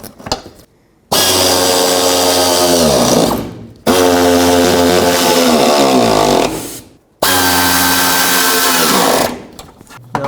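A power tool runs in three long bursts, each a few seconds long with brief pauses between them, as side bolts are snugged up on a bumper support bracket of a 2007 Chevy Silverado Classic.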